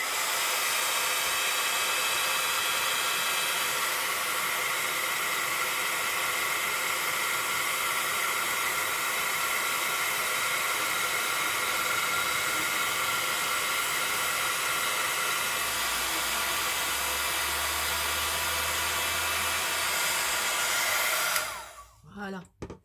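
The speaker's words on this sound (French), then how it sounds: "Donc je vais faire du bruit et on va embosser la petite fleur" A heat embossing tool blows steadily over a small paper flower, a loud, constant airy whoosh like a hair dryer that runs for about twenty seconds before clicking off with a few brief clatters.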